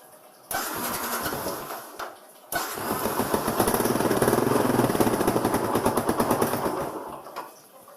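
A Yamaha Byson motorcycle with an electrical fault is started: a brief crank and catch, a short pause, then a second start that settles into a loud, rapid, rattling idle close by before cutting off.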